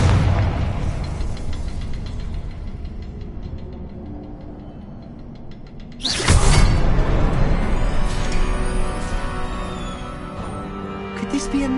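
A Confringo blasting spell bursts in Hogwarts Legacy with a sudden loud boom midway, following a steady rumbling background and leaving a lingering, crackling tail; a spoken line precedes it.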